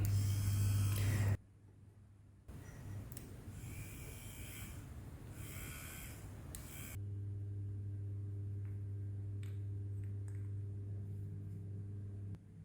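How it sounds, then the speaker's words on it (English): Small motor of an electric rechargeable water dispenser pump running with a steady low hum and buzz, cutting out briefly and restarting, then droning on steadily nearby with faint clicks and no talk. "now the motor is working, it is running"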